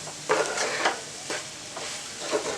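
Mutton coated in ground cumin powder is stirred in a pan over a soft background sizzle. Several distinct scraping strokes come at an uneven rhythm, close and moderately loud.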